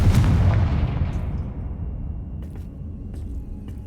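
A Confringo fire spell from the Hogwarts Legacy game bursts with a loud, boomy blast at the start and then rolls away in a long, fading rumble with a few faint crackles near the end.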